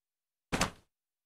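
A door opening in the Resident Evil Zero HD Remaster video game: one short, solid thud-and-slide of about a third of a second, close and fairly loud, set in silence.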